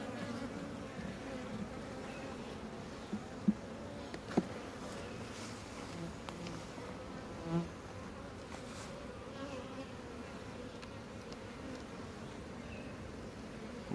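Honeybees swarm over the frames of an open hive, a soft continuous buzzing of many insects close by, with a few faint clicks and knocks of frames being handled.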